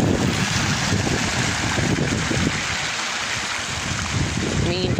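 Water runs in a fountain in a rose garden in Khamis Mushait, Saudi Arabia, a constant close splashing rush, buffeted by wind noise, with brief tonal sounds near the end.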